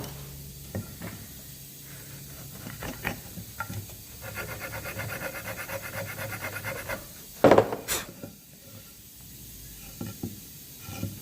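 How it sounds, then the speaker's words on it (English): A hand chisel paring out waste wood to let in a brass cabinet hinge, heard as close, steady scraping and rasping strokes with scattered sharp taps and one louder knock near the end, no voices. "put my chisel in and carve out the waste so I can fit my hinge perfectly"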